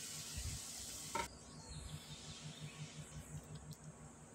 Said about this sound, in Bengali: এটা নাড়তে থাকতে হবে, তা না হলে নিচে লেগে যাবে।